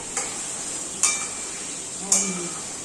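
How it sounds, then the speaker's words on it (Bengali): Potatoes fry in oil with a steady low sizzle, broken by three sharp metallic scrapes or clinks of a utensil against the pan at roughly one-second intervals. "আলুটা ভাজা হোক।"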